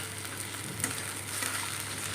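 Chopped onion and tomato fry in hot oil in a pan, giving a continuous soft sizzle with a faint scrape of stirring partway through and no voices.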